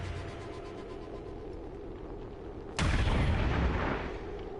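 A single loud gunshot in the video game XCOM 2, a sharp close crack followed by a rumbling tail over quiet background ambience.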